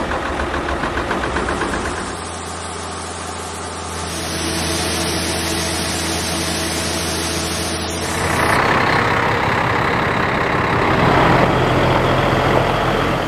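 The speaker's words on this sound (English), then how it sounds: "Sounds like we got Ronnie back to fill up with some corn" A truck arrives at a farm to load corn, its engine idling and rumbling steadily, growing louder and closer partway through, with a sharp hiss like an air brake midway and no talking.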